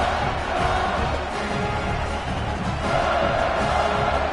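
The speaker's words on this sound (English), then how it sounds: "this crowd is buzzing after that last score" A football stadium crowd keeps up a steady, distant buzz, a dense murmur with faint cheering swells and no clear single voice.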